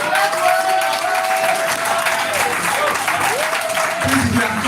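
Audience at a plant-based stem cell health summit in Nigeria applauding, dense steady clapping throughout with a brief voice breaking in near the end.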